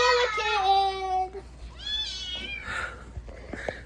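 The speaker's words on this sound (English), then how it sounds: "This random kitten showed up in our yard." A stray kitten in a yard gives a few clear, near meows in quick succession, each a drawn-out cry followed by shorter ones, with light household background noise.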